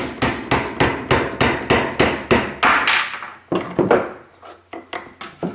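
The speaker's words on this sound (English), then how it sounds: "I'm just going to gently tap this down and through." A hammer taps a metal punch in a multi-shape disc cutter, with a wooden dowel holding it, to cut a disc from sheet metal: about ten sharp, evenly spaced ringing strikes, then a few lighter, more scattered taps.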